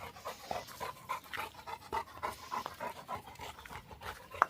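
A bull mastiff puppy pants close by in quick, rhythmic bursts of breath that continue steadily throughout, with no other sound around it.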